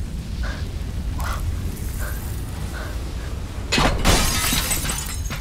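Glass shattering in the video game Beyond Two Souls: a few light tinkling impacts spaced about a second apart, then a loud, bright crash of breaking glass with a scattering, crackling tail of falling shards.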